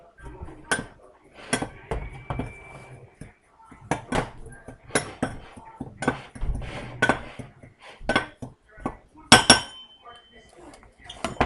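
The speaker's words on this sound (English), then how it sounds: "Should I get into the mayonnaise jar with this?" A metal utensil clinks and scrapes inside a glass mayonnaise jar in a home kitchen, irregular sharp knocks and scraping strokes in quick bursts with brief pauses between them, close up.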